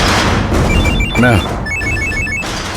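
Telephone ringing in a Tamil TV serial scene, a repeating electronic tone in short bursts, with a thud and background sounds in between.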